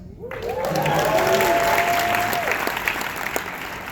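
Applause from an audience of Atlanta Hawks fans fills the room, a dense sustained patter of many hands that swells quickly, holds steady and slowly thins, with a few whoops and voices mixed in.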